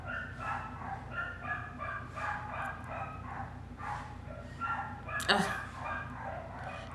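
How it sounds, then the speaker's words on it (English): Dogs bark repeatedly in the background, a steady run of yips and barks with one sharper burst near the end, sitting under a talking voice. "I'm so tired of these dogs."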